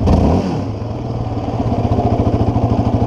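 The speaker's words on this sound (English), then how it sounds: "pull the clutch in, shift back down to a lower gear, release the clutch, now we're in first gear" A quad bike engine slowing from a higher rev to a low, steady chugging pulse after a downshift into first gear, close and loud.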